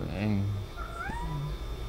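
A domestic cat meows a few times, short rising and falling cries close to the microphone, while someone speaks in Spanish in the background.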